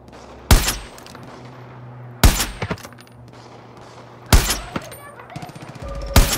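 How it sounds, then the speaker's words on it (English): Four loud sniper rifle shots in Far Cry New Dawn, each a sharp crack with a ringing tail, spaced about two seconds apart over low game ambience. "That's what we call a sniper"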